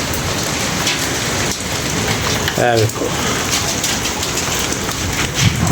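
Heavy rain pours down in a dense, constant hiss of drops striking surfaces, loud and unbroken, while a voice speaks briefly partway through.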